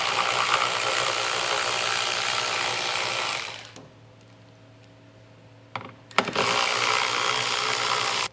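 A ratchet works loose the 10mm taillight screws on a 2023 Subaru, a steady close whirring and clicking that stops for a few seconds of near quiet, then resumes just as loud.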